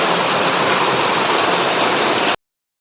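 Heavy rain pours steadily in a village, a dense and loud continuous hiss like rushing water with no pauses, then it cuts off abruptly.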